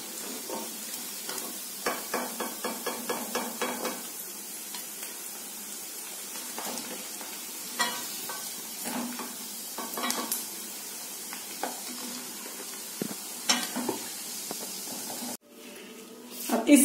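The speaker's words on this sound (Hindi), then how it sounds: "ये देखिए आलू फ्राई हो गए, इन्हें ज्यादा फ्राई नहीं करना है, सिर्फ लाइट ब्राउन हो जाए तब तक ही फ्राई करना है।" Potato pieces frying in hot oil for street-style chhole chaat give a steady sizzle with intermittent stirring scrapes and clinks in the pan, continuous and fairly close, ending with a sharper clatter.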